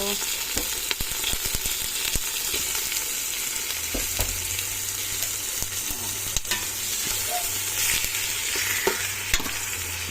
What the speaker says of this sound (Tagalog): Mix natin yung ating baboy dito.